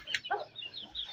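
Short soft clucks from an Aseel hen with her chicks, a few close calls in quick succession with a faint high peep among them.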